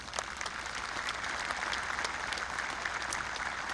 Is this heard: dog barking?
no